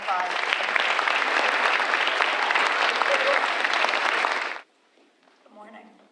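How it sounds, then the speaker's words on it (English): A school culminating ceremony audience claps loudly and steadily for about four and a half seconds, then stops abruptly, leaving near silence and a faint voice. "One more round of applause."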